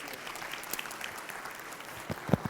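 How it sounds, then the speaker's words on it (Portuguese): A faint, distant round of audience applause at a state justice conference on generative AI continues steadily, with a few sharper knocks near the end. "Uma salva de palmas de novo, por favor."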